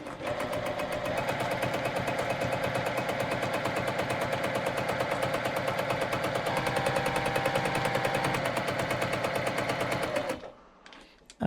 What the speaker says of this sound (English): I'm going to stitch straight along that line there